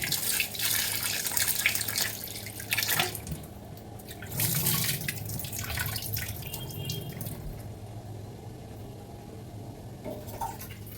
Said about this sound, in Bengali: চলো চালটা আগে ধুয়ে নিই